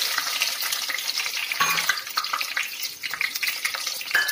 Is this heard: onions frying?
yes